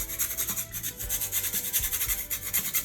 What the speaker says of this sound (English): I'm just gonna grate fresh nutmeg, the whole seed right over the top a little bit.